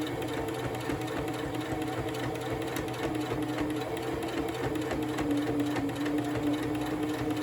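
A sewing machine runs steadily through free-motion stitching on a thread-spool appliqué keychain, its motor humming in an even, continuous drone with fast needle chatter throughout and no talking.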